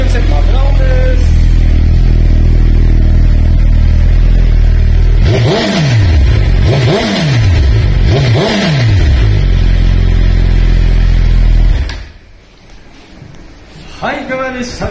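Suzuki GSX-R1000 with a Yoshimura dual-exit muffler idling loudly up close, then three quick rev blips in a row before the engine cuts off and goes quiet, followed by faint rustling.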